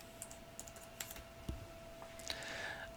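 Light typing on a computer keyboard during a statistics homework lesson, a handful of soft, scattered key clicks with a brief pause and a quiet hum underneath, close and faint.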